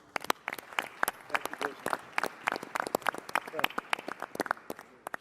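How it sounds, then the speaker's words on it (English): Scattered applause at a roundtable meeting with the Vice President on Florida food donations, a modest group of people clapping in uneven, sparse bursts, fairly quiet and nearby, with a few voices mixed in. "I think that's worth a round of applause"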